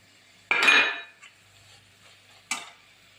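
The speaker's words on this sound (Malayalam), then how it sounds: "ഇനി തേങ്ങ ചേർത്ത് കൊടുക്കാം" Grated coconut added to a pan of cooked vegetables for an Onam upperi, two brief metallic scrape-and-clink stirring bursts separated by near silence.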